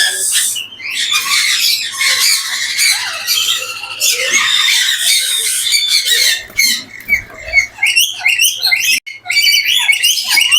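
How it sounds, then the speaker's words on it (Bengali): A pair of rainbow lory parrots in a bird-house aviary setup squawk and screech loudly and continuously at close range, with sharp overlapping calls throughout. "চমৎকার একজোড়া লরি পাখি সেটআপ।"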